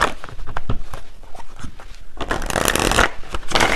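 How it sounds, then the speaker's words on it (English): Tarot cards being shuffled and pulled from the deck, with a continuous close riffle and slap of card stock building into denser, louder flurries toward the end, no voices. "Let me pull one final card"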